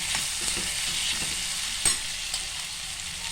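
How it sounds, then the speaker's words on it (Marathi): Onion fries in a pan with a steady, close sizzling hiss, broken by occasional soft scrapes and clinks of stirring, with no voices. "अर्धा आपण कांदा शिजवून घेऊया आता"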